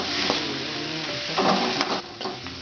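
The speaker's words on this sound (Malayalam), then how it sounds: "ഇനി നമുക്ക് അരപ്പിട്ട് കൊടുക്കാം." Roasted coconut paste hitting a hot pan already holding chilli, mustard seeds and chopped onion gives a steady close sizzle, with short bursts of stirring and frying crackle.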